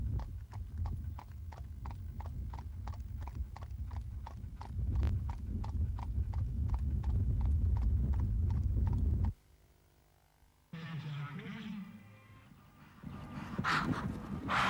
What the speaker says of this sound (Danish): Kørsel med hest og vogn skal kunne foregå sikkert og harmonisk, også på offentlig vej og i al trafik.